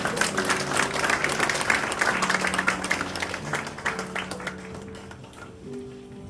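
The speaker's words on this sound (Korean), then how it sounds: "큰 박수와 함께 축하해 주시기 바랍니다" An audience in a large church auditorium applauds at a missionary award ceremony as a gold pin is presented, brisk clapping over soft background music that gradually fades away near the end.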